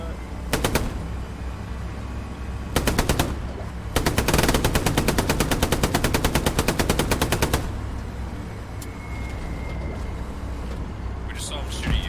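Machine-gun fire in the Hell Let Loose World War II video game comes in several rapid bursts, the longest lasting about three seconds, over a steady tank engine rumble while players talk over voice chat.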